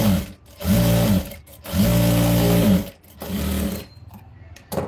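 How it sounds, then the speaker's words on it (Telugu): Sewing machine stitching blouse fabric beside embroidered work, running in loud, steady bursts of whirring stitches separated by short pauses, close by with no talking. "సో ఇలా నెక్స్ట్ వర్క్ పక్కనే స్టిచ్ వేసుకోవాలి."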